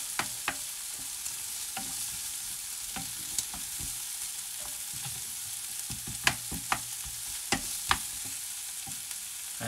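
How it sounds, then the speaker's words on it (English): Onions frying in a pan at home, a steady soft sizzle with scattered sharp clicks and scrapes of a utensil stirring them, close and without talk. "So let's add the onions. Get them frying."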